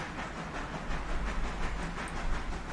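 Railroad cars roll along in the Railroader train simulation game, a steady rumbling clatter with a faint hiss and rhythmic clickety-clack, heard alone at moderate level.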